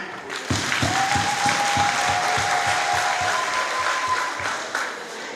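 A seated audience at a government event applauds loudly and steadily, a dense wash of clapping with some distinct rhythmic unison claps, joined by a faint sustained voice or whistle tone partway through.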